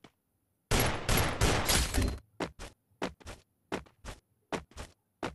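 Free Fire gunfire erupts in a loud burst of rapid automatic shots, then several short separate bursts follow with brief silences between, close and sharp.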